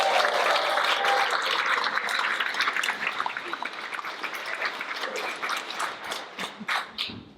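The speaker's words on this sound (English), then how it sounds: "we want to hear your enthusiastic applause!" A crowd at a magic lantern show at a writers festival in Tathra claps and cheers loudly, the dense applause gradually thinning out into scattered individual claps toward the end.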